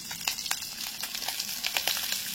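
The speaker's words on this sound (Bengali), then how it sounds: "ভালো করে ভেজে নেবো এটাকে।" Onions and slit green chillies frying in prawn-flavoured oil, a soft steady sizzle with small crackles and pops scattered throughout, close and fairly quiet, with no talk.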